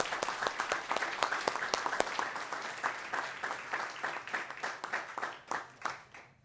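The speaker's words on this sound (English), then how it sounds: "So I want to give you a round of applause." A school governing board meeting audience breaks into a round of applause, a dense run of individual claps loud at first and gradually thinning and fading toward the end, with no talking.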